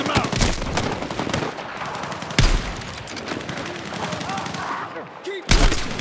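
Battlefield 6 video game combat with dense, loud bursts of automatic gunfire and heavier booming shots crackling continuously, with soldiers' voices calling out beneath the shooting.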